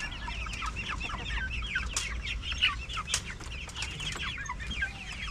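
Young chickens cluck and chirp continuously in a backyard garden, a busy overlapping flock close by with soft background noise and no talking.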